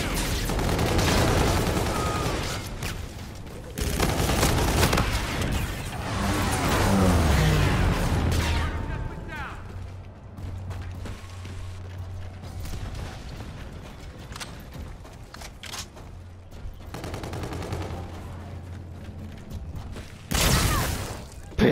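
Pistol gunfire in the video game Call of Duty: Infinite Warfare comes as loud bursts of shots near the start, in the middle and again at the end, separated by quieter mechanical in-game sounds and a low hum.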